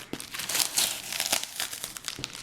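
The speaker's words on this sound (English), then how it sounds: "And it comes with a little packing slip here. Which I'll just rip that off." A taped packing slip is ripped off the box of a Razer arcade stick, close and fairly loud, with a steady run of crinkling, crackling tears of paper and plastic tape and no talk.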